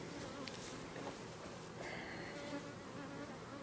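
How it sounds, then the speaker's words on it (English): Bees buzz around a beehive near a tractor in a garden, a faint but steady swarm hum with individual insects droning past close by. "now they're buzzing my ears again."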